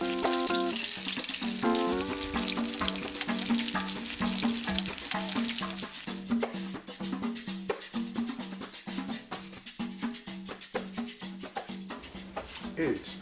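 Vegetable and cheese empanada patties frying in a pan, a steady hiss and sizzle running throughout, loud and close, with music playing over it.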